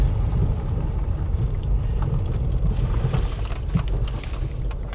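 A VW Eurovan VR6 van on its first drive after being bought abandoned gives a steady, loud low rumble of engine and road noise with wind buffeting inside the cabin and no speech.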